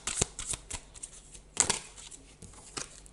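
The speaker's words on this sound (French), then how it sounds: "je vais tirer une dernière carte" Tarot cards are shuffled and drawn from the deck, with a few crisp flicks and rustles of card stock close by and short pauses between them.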